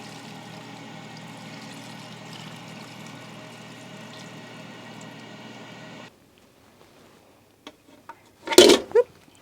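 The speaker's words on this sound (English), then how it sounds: "Go ahead and pour it onto the potatoes." Liquid, milk mixed with a flavor packet, pours steadily onto potatoes in a trailer kitchen, a soft continuous trickle that stops abruptly, followed by quiet and a sharp clatter near the end.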